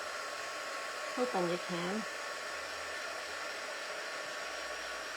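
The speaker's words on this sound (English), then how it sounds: "these are so nice now, these little heat guns" A small heat gun used for fabric crafting blows a steady, even whooshing hiss throughout, with a person speaking briefly over it near the start.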